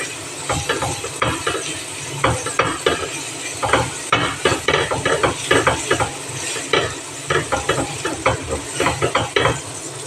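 Garlic sautéing in a pan at the start of a macaroni pasta dish, a steady close sizzle broken by busy scraping and stirring clatter from a utensil against the pan, loud and continuous with no talking.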